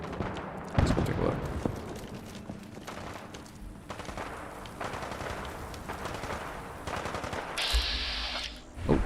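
Squad gunfire in the video game Fallout 4, with bursts of machine-gun and rifle shots rattling steadily at a moderate distance for several seconds and a sharper burst near the end.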